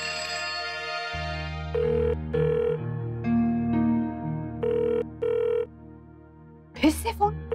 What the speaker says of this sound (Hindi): चिकी, मेरे हाथ में सामान है, तू उठाना जरा फोन।